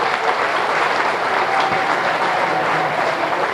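An audience at a junior swine show applauds in a dense, steady burst of clapping that lasts several seconds.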